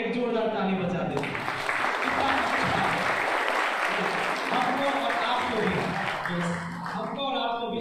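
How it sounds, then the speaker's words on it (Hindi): Loud, sustained applause from a congregation for the shepherds at a Christmas church service, steady clapping throughout with a voice rising over it near the start and end. "इन गड़रियों के लिए एक जोरदार ताली बजा दे।"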